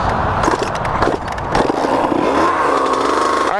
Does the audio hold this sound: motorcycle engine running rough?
yes